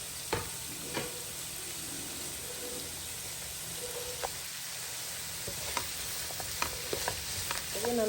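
Chopped, seeded tomatoes fry in butter and oil with a steady close sizzle, broken by a few soft stirring knocks and scrapes.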